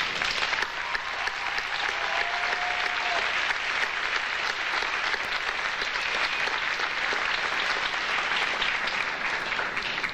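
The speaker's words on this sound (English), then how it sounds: "Would you please help me recognize them by giving them all a round of applause." A large audience applauds at a 2002 community college commencement ceremony, sustained, dense clapping that holds at an even level for the full ten seconds without talk.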